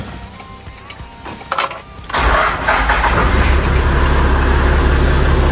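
A 1995 Toyota Land Cruiser VX80 engine cranks briefly and then catches, settling into a loud, steady idle rumble that continues to the end without any talking.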